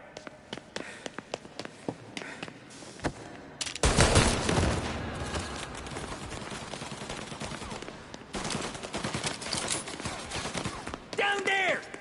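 Gunfire in Mafia: Definitive Edition, with scattered single shots that break into a dense, loud burst of automatic fire, then further sporadic shots and volleys, with voices talking over parts of it.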